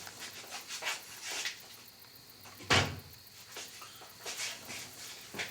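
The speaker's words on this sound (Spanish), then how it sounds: "¿cerrarías bien la ventana?" A window is pulled shut at home on a cold evening, with a single sharp knock of the frame closing midway amid faint rustling and soft handling noises.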